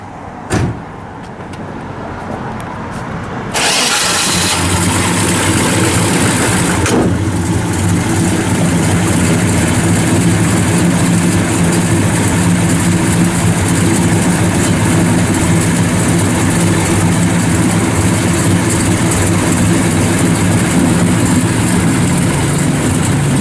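A car door thuds, then the big 396 V8 of a 1969 Chevrolet Chevelle SS with a performance cam and full dual exhaust starts and settles into a loud, steady, throaty idle that rumbles on without a break.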